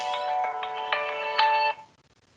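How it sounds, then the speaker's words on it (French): A mobile phone ringtone plays a bright repeating melodic electronic pattern of short tonal notes, fairly loud and close, then cuts off abruptly into near silence. "mon téléphone n'est pas à l'arrêt."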